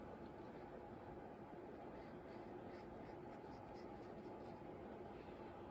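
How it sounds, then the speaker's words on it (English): Scissors trimming a layer of hair in an emo/scene-style haircut, heard as a steady stream of close, dry snipping and rustling texture with no talking. "We'll trim this layer a bit."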